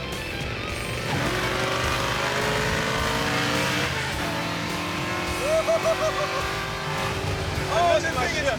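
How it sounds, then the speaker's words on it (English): A loud car engine runs and revs close by, a mean-looking car on big tires, with steady rumble, rising pulls and brief squeal-like tones, while people talk over it. "that car is loud"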